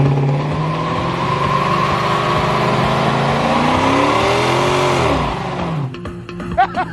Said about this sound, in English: That was pretty good for your first burnout